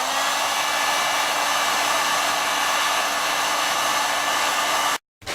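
A heat gun blows steadily and loudly while heating the ends of a white PVC pipe, a constant whooshing roar that cuts off abruptly near the end and briefly restarts.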